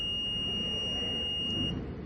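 An electronic buzzer on a final-year electrical engineering project circuit gives a steady high-pitched tone while the system voltage climbs toward its threshold, then cuts off just before the end.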